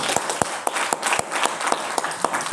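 An audience at a Musabaqah Qira'atul Kutub religious text-reading competition at Unipdu claps, giving fairly sparse, uneven applause with distinct individual claps.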